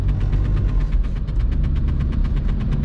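A VW Golf 3 with a 1.9 TDI 90 hp diesel engine accelerates at full throttle on a rainy road, a loud, close, gruff engine drone with rapid rhythmic diesel pulsing and no talking.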